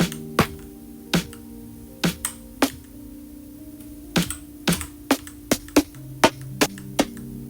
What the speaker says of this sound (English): very soft snare.